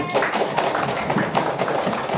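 A class or gathering claps for a group that has just been named, with steady, dense applause from many hands and some voices mixed in throughout.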